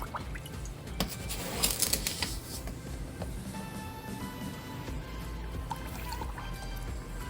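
Two cups of sugar pour steadily into a pot holding six cups of water, a continuous grainy rushing hiss with faint splashes, close and alone.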